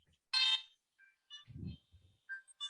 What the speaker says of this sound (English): the reason I got a smartphone was so that I could make every person I know have a unique Super Nintendo ringtone